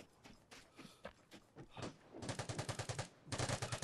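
Gunfire in the online shooter Vigor, scattered single shots at first, then two rapid automatic bursts of evenly spaced cracks, fairly faint and distant, with no talk over them.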